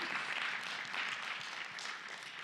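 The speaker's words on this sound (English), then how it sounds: "give Becky a round of applause" A church congregation applauds a youth group leader, a soft but steady wash of clapping from many hands lasting a couple of seconds.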